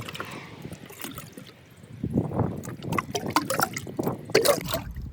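Cleaning solution is swirled in a wet-and-dry vacuum's clean water tank, giving close, irregular sloshing and liquid knocks that grow louder after the first couple of seconds.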